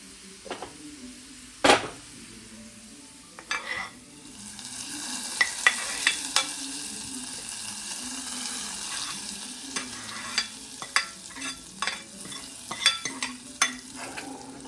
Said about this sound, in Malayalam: അപ്പോൾ നമ്മൾ ഉള്ളി ഇങ്ങനെ മൂത്ത് വരുന്നുണ്ട്.